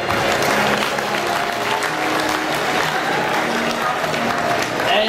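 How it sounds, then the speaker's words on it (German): A crowd at a Swiss show for older cows claps in a sustained, even round of applause, fairly close, with some voices faintly mixed underneath. "geben wir nochmal einen kräftigen Applaus"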